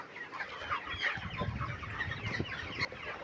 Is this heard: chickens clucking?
yes